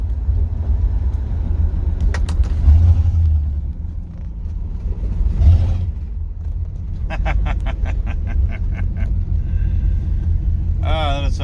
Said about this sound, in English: I'm going to go ahead and engage the exhaust cutouts.